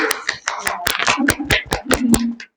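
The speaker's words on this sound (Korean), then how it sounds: "박수." A small group claps briefly at an outdoor forest talk, about a dozen sharp, distinct claps in a quick uneven run, close by, then stopping abruptly.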